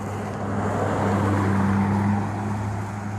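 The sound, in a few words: car pulling into a driveway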